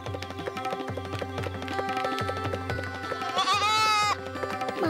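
A goat bleats loudly in one wavering cry near the end, over continuous music in an outdoor setting by a stream.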